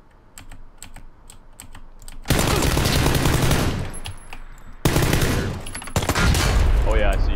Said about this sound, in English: Oh, I'm getting shot from there.